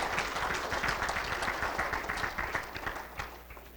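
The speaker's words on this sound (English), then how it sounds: "I think we need a round of applause to thank Jody for this event." An audience at a wheat industry annual meeting claps together in a steady round of applause that carries on throughout and fades slightly toward the end.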